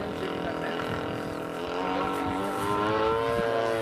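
An RC Stearman model biplane's engine drones steadily during its first flight, its buzzing tone rising in pitch and growing louder partway through.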